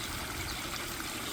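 Water from a pump circulating through a small backyard pond, a steady soft trickling and splashing wash that runs unbroken and fairly quiet throughout, with no voices.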